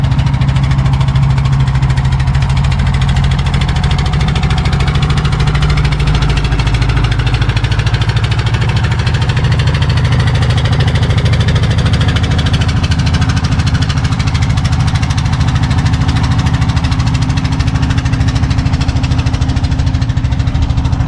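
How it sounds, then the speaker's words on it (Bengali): A trawler boat's engine chugs loudly and steadily on the Kaliganga river, a close, continuous low throb with mechanical vibration and no pauses. "এই যে দেখেন ট্রলার।"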